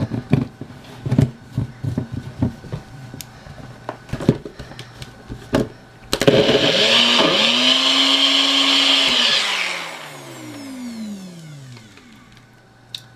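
A countertop blender whirring through a thick chocolate weight-loss smoothie: a few clunks and taps first, then a loud steady motor roar that strains and drops in pitch as the mix thickens, then winds down and stops.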